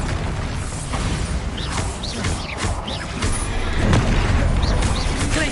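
A Bombarda blast spell from Hogwarts Legacy booms and crashes in a few close bursts, layered with rumbling debris and mechanical clatter.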